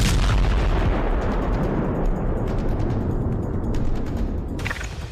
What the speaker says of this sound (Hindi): देखिए कैसे ईरान ने तेल अवीव को मिसाइल धमाकों से थर्रा रखा है